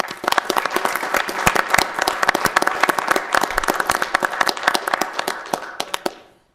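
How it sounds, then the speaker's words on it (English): Sustained round of applause from a board meeting audience, many hands clapping densely and fairly loud for about six seconds before cutting off, with no talk over it. "So as a board, we'd like to give you a round of applause and thank you"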